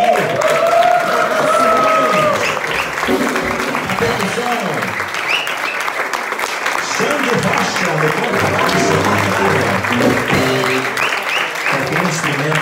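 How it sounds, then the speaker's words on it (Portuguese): Audience applause for a band at a choir concert, steady dense clapping from a crowd that fills the hall with some chatter and voices mixed in throughout. "eu queria pedir uma salva de palmas para essa banda maravilhosa que tá aqui"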